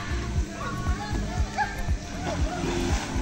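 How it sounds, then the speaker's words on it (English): People splash about in a resort pool, with repeated sloshing water hits at a steady rhythm, close by, while voices chatter and children play in the background. "Splash."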